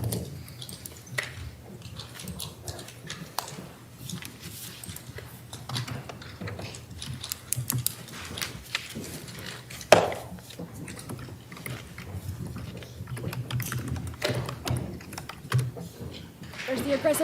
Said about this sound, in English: There's the aggressive typer. Aggressive typer is back.